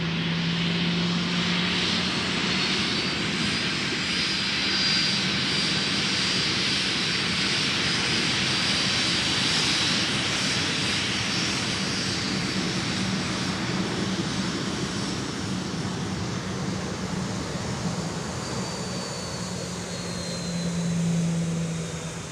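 A jet airliner taxiing close by on a taxiway at Minneapolis–Saint Paul airport, a loud continuous engine roar and whine that holds steady for over twenty seconds with no voices.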